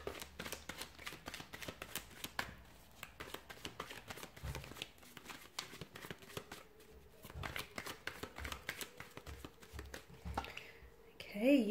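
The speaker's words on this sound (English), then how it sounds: "we'll give the cards a shuffle here" Tarot cards are shuffled by hand in a quiet room, a long run of soft, rapid riffling and flapping with brief pauses between passes.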